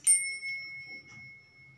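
A small decorative metal bell, a gift from Gujarat, rings once with a bright, clear ding that hangs and slowly fades, heard close in a quiet room.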